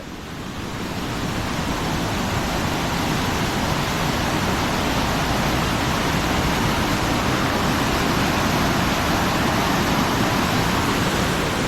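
Rushing water roars continuously and loudly, a dense, steady wash of sound like a fast stream pouring nearby.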